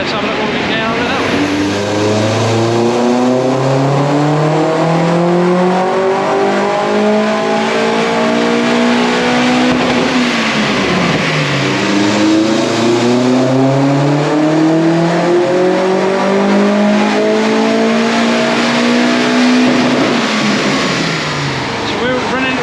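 A forged Astra VXR with a K06 hybrid turbo, running methanol injection and titanium exhaust, revs repeatedly during a mapping session: loud, close engine sweeps climbing and falling in long pulls over steady high-level noise.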